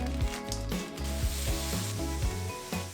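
Vegetables sizzling loudly in a hot pan while being stir-fried, a steady close hiss broken by regular scraping strokes of a spatula.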